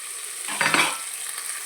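Onions for mushroom curry masala frying in a pan and stirred until lightly browned, a soft steady sizzle with one brief scraping stir in the middle, close and fairly quiet.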